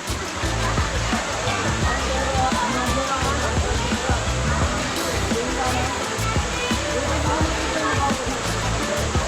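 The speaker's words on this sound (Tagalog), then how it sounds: "Ang dami nilang falls dito." A waterfall at a spring in Bolinao pours in a steady, loud, dense rush that fills the whole clip, with splashing and sloshing mixed in and people talking over it.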